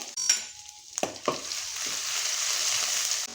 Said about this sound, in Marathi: मी हे दोन चमचे भरून मी तेल घेतलेलं आहे लसूण मी ॲड केलेलं आहे